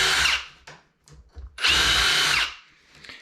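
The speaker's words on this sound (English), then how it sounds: "And we're just gonna drill these real quick." A power drill bores holes for a door knob install in two loud, close bursts of about half a second and one second, with brief rattling handling noise between them.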